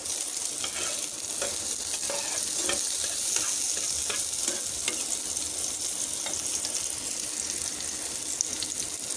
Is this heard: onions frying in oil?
yes